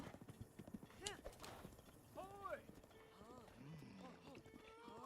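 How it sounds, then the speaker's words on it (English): Horse hooves gallop in The Legend of Zelda: Breath of the Wild as a steady clip-clop rhythm with a whinny, all under a person talking. "Gotta pet the horse every time I whip it."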